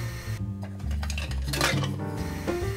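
Ceramic lids from a potter's collection used for trimming plate foot rings are handled on a workbench, producing close, moderately faint clinks and knocks of hard pieces touching in an irregular series.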